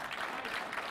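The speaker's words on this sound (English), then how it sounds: "Publiken klappar igång honom" A crowd at a pétanque exhibition match between France and Belgium claps, a steady, moderately distant ripple of applause lasting the whole moment.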